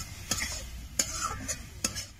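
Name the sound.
stir-frying chicken with spices in a pan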